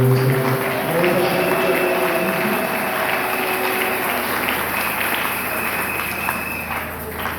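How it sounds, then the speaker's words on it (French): A church congregation in Kolwezi applauds in dense, sustained clapping that fills the hall, with voices mixed in and a steady rumble underneath throughout. "Est-ce qu'on peut acclamer le Seigneur?"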